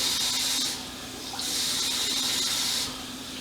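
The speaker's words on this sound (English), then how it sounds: "I'm going to fill the water up" Water gushes from a kitchen tap into a measuring cup in two bursts, a steady hissing stream that stops briefly between them, close by with no talking.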